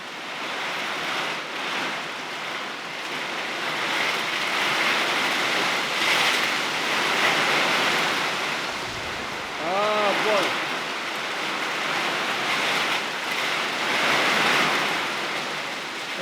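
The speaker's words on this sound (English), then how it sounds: "it's just a lot of rain" Heavy rain pours steadily over a property in Central Texas, a dense hiss of drops that swells and eases in waves, with a brief close voice breaking in partway through.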